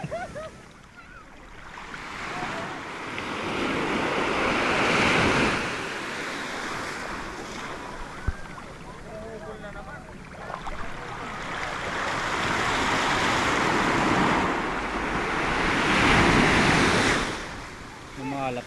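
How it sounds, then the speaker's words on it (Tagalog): Sea waves roll and break in rough surf during strong northeast monsoon winds, with two big swelling surges and steady wind buffeting the microphone throughout, faint voices mixed in. "yung alon"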